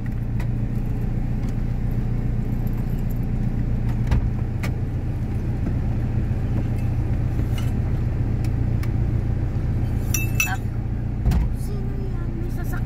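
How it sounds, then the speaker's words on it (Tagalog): A car arrives, its engine a steady low rumble that runs right through, with occasional light knocks and rattles on top. Low voices are faintly present. "May sasakyan."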